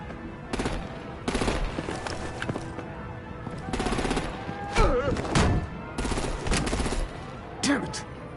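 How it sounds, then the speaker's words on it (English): Bursts of automatic gunfire erupt repeatedly in the video game Batman: The Enemy Within, loud rattling volleys of several seconds each with short gaps, mixed with voices and game effects. "Break out the artillery and disable their vehicles!"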